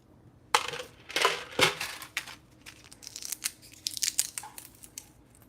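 A dry bean pod snaps and crackles open by hand during a home garden harvest, giving several close, sharp cracking bursts followed by a run of lighter crinkling and rustling as the brittle pod splits apart.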